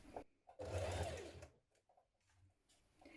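A sewing machine runs a short burst of stitching on a trouser pocket seam with elastic underneath, a close, loud whirring run of about a second, followed by quieter handling clicks.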